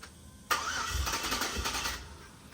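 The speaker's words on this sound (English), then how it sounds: "and now it's time for a first start." The high-ram engine of a 1,000whp Silverado build cranks on its first start attempt: an abrupt onset of starter churning with rhythmic pulsing for about a second and a half, then cutting off without catching.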